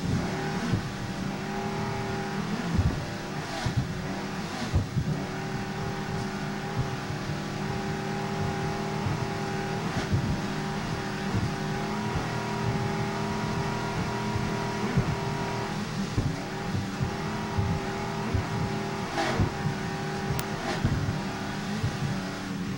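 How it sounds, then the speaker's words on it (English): A 29-foot Warlock offshore racing powerboat runs flat out in an offshore grand prix, a loud, continuous engine roar with rough, pounding fluctuations from the bumpy ride and no speech. "Bumpy ride aboard the 29-foot Warlock."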